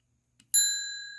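A spring-loaded hammer on a Lionel NW-2 diesel switcher model locomotive strikes a small gong once after a faint click, giving a single close, bright ding that rings on and slowly decays.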